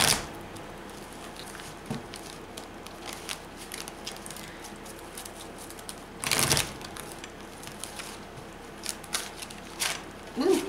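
Tarot cards being shuffled produce soft, scattered riffling and tapping clicks, faint and close, with a louder burst of card noise midway and another near the end.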